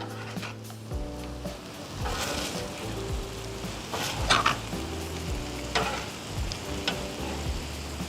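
Steak strips in chimichurri marinade sizzling on a Blackstone griddle for fajitas, a steady close frying hiss broken by scraping and stirring of a spatula on the flat top.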